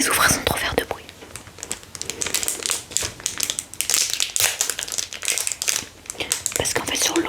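Foil Dragon Ball card game booster pack being torn and crinkled open by hand without scissors, a steady close stream of crisp crackling and crumpling with bursts of louder tearing, soft whispering underneath.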